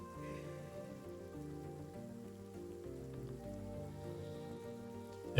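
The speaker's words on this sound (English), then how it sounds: "Toxic rain." Toxic rain in the colony-building game Surviving Mars patters steadily and softly under a layered, droning music bed, with no voices.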